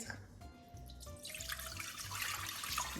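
Water pours steadily into a container, about 500 ml for mixing with soap flakes for household cleaning. The trickle starts faint and builds into a brighter, fuller splash over a few seconds, close by and without talk.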